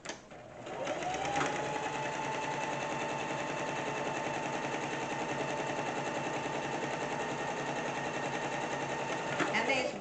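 A sewing machine stitches quilting in one steady, continuous run of rapid mechanical clatter lasting about ten seconds, close and fairly quiet, with no talk over it.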